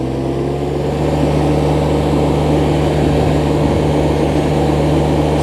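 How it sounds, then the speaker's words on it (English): A Branson 1905h 19 HP sub-compact tractor's diesel engine runs close and loud while driving, a steady low drone with a strong tonal hum that holds firm as the throttle is pressed, no talk. "The engine is throttling up as I'm pressing more and more forward."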